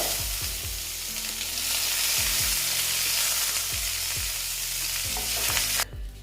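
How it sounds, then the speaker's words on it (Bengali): Boal fish sizzles steadily in hot oil in a pan, a loud continuous frying hiss with occasional low thuds and clatters as it spatters, no voices. "মাছটা প্রায় ভাজা হয়ে গেছে এত আটছে গো বাপরে বাপ ছিটাচ্ছে"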